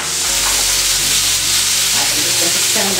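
Meat strips and peppers stir-fry in a hot pan with a loud, dense, continuous sizzle and hiss, close up, with occasional stirring knocks and no talk.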